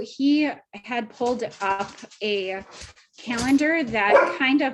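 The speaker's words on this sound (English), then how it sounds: "I'm sorry about my dogs." Dogs barking and yipping repeatedly at home, close and loud, mixed in with someone talking throughout.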